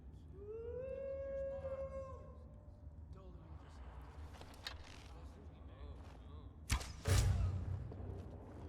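In the video game Skyrim, a wolf gives a long rising howl with wavering tones, followed by scuffling game noise and a sharp thud later on.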